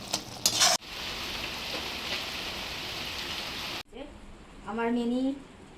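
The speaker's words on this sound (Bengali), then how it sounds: "ভালো করে কষিয়ে নেব যতক্ষণ না তরকারি থেকে তেল ছাড়ছে" Vegetable curry with tomato sauce and a pinch of sugar frying in oil, a steady close sizzle through most of the clip, briefly cut before a voice speaks over it near the end.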